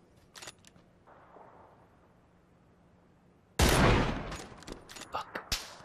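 After a quiet stretch with a few faint clicks, a loud video game gunshot bursts in suddenly, followed by a decaying rumble and several sharper cracks and pops.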